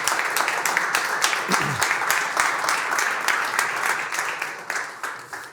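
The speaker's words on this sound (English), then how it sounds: "And give a warm hand of applause to Julia." Warm audience applause at a startup accelerator party, many hands clapping in a steady, fairly dense patter with individual claps audible and a brief voice or whoop partway through.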